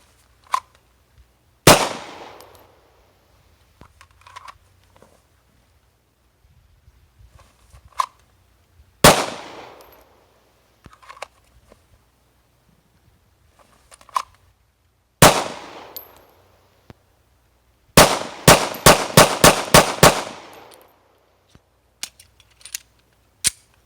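A Glock 26 pistol firing Freedom 115 ammunition at an outdoor range: loud, sharp single shots spaced several seconds apart with echoing tails, then a fast string of about seven rounds, with fainter distant shots from other shooters between.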